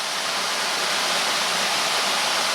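Continuous rushing water of the River Gade flowing under a bridge, a broad steady hiss like a stream or small fall pouring nearby, with no talking.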